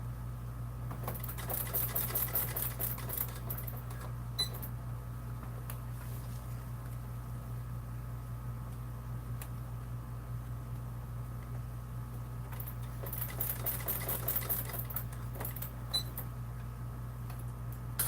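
A sewing machine stitches a Swoon Maisie bag in a steady, continuous mechanical whir with a ticking needle rhythm, holding close and even throughout, with a couple of brief pauses in the higher clatter.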